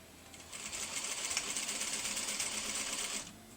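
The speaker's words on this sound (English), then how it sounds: "So now let's go ahead and take this over to the sewing machine." A sewing machine stitches joined quilt sections, its rapid, even needle chatter running continuously for about three seconds at close range before stopping.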